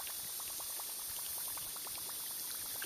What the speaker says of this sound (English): that's the plopping sound that it's known for the Whopper Plopper